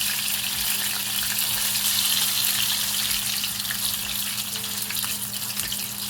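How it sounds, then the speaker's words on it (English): Chicken fries in a pan with a loud, steady sizzle and crackle, a continuous bright hiss with a low hum underneath. "just place the chicken to fry"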